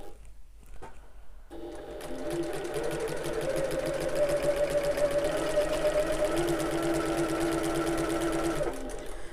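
A sewing machine top stitches fabric, its motor whirring steadily with fast needle chatter at close range for several seconds before stopping.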